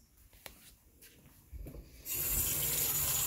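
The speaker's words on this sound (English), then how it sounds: "We're going to fill a cup of water and we're going to look at the surface of the water as we fill up this cup" Water runs from a tap into a cup, starting after a few quiet handling clicks and rubs, then a steady loud rushing stream fills the rest of the clip.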